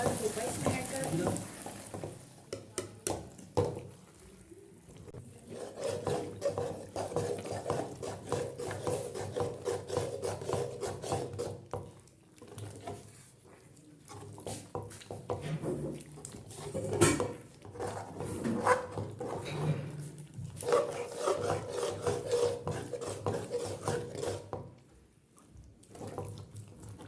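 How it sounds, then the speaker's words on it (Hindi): Maida halwa with nuts is stirred continuously in a pan, giving a long run of soft, raspy scraping strokes over a low sizzle, close but fairly quiet, with brief pauses. "मज़ीद चलाते जाएं जब तक ये अच्छी तरह से पकना चाहिए।"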